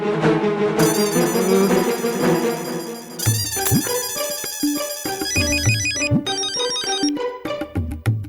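A mobile phone plays a loud, tuneful ringtone for a call from Popat bhai, a melodic jingle that keeps looping with no talk over it.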